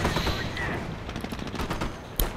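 Gunfire rattles in a real-time strategy video game battle as rapid bursts of crackling shots over a busy battle din, ending with a sharp louder report near the end.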